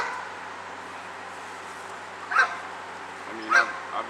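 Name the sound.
dog barking, German shepherd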